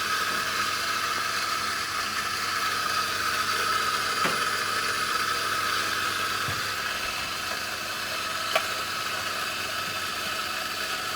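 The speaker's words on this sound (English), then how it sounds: "I'm just going to get the sound of this coffee machine." A coffee machine runs inside a coffee van, giving a steady hiss and mechanical hum throughout, with a couple of faint clicks partway through.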